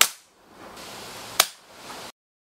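Two muffled airgun shots fired through a silencer, each a short sharp crack, the first at the very start and the second, louder and snappier, after a stretch of quiet background hiss.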